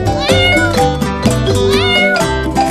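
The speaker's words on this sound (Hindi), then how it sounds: "ये बिल्ली का बच्चा बड़ा शरारती है।" A kitten meows repeatedly and loudly in close, drawn-out cries, layered over a dense, continuous backdrop of tonal sound.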